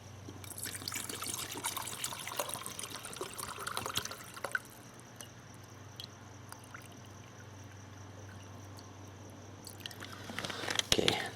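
Water trickles and pours steadily into a mug for a few seconds, then the flow stops, leaving a quiet hum with faint clinks.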